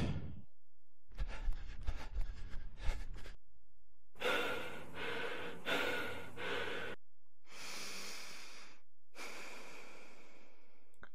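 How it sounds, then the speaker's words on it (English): Heavy breathing effect of exhaustion after running: a long loud exhale followed by rasping inhales, then further breathy bursts in separate takes, close and alone with no talk. "you can hear with the heavy breathing, it starts with an exhale and ends with an inhale"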